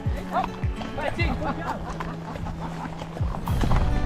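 Hooves of a horse named Rusty clip-clop at a steady walking rhythm during a ride in Ireland or the UK, heard close and moderately loud beneath a rider's conversational voices.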